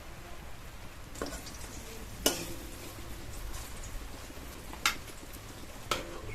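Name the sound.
egg and cabbage frying in oil in a kadai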